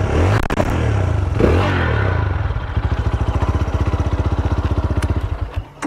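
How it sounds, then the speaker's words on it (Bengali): A GPX Demon 250R sports motorcycle engine idles steadily, then settles into a loud, even rhythmic exhaust pulse with a throaty, close-up character and no talking over it. "সাউন্ডটা কিন্তু আসলে স্পোর্টস বাইকে যে সাউন্ড থাকা দরকার সেই সাউন্ডটা কিন্তু আমরা শুনতে পারলাম"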